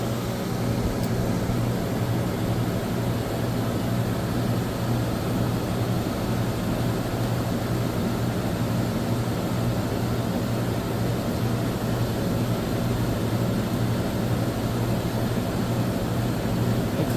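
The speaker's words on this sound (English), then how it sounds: "Yeah, we got the compressor on." A walk-in cooler's compressor runs with a constant, loud mechanical hum and steady low tonal drone, unchanging and alone throughout.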